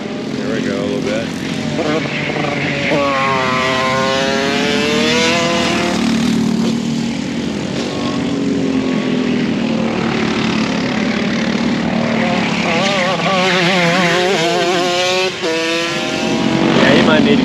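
A Rok shifter kart engine roars at high revs on a track, a loud, raspy buzz that climbs and falls in pitch with repeated gear changes, steady and close throughout, with a voice faintly present under it.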